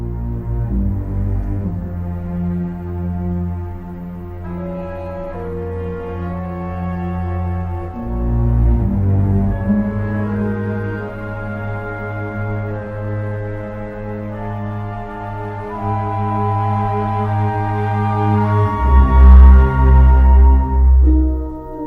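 John Williams' alternate Binary Sunset cue from Star Wars, a sustained orchestral passage of layered strings and brass with slowly shifting chords, building toward a louder swell near the end, with no voices.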